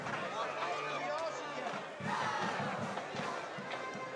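Cheer squad and fans shout and cheer in the stands at a high school football game, a lively crowd roar with rhythmic chanting bursts, heard at a middle distance with talk mixed in.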